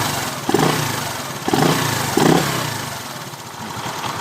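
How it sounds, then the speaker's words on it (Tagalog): A motorcycle engine with a knocking manual cam chain tensioner idles close by and gets three short, light revs at a steady rhythm, then settles back to idle. "Then rev nyo ng konti."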